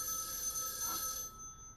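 A telephone in a house rings in a video game. It gives one bright electronic ring that holds steady, then drops off abruptly near the end, with nothing else heard.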